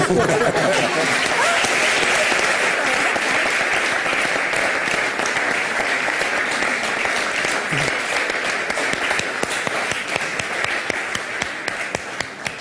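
Sustained applause for Eid al-Adha, dense crowd clapping that holds loud and steady throughout with a few sharper claps and faint laughter mixed in.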